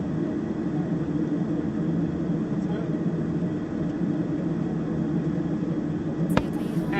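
Beechcraft King Air 350 turboprop engines idling before takeoff, a steady close droning rumble that runs throughout with a brief click near the end; a voice may be present under the engine noise.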